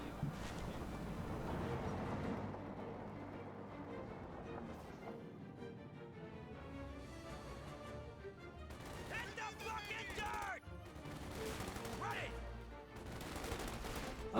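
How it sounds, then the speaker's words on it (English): Machine guns rattle in Company of Heroes 2 battle, dense bursts of gunfire and distant explosions running continuously at moderate volume, with someone talking over the combat. "These two machine guns will suppress that lieutenant no problem."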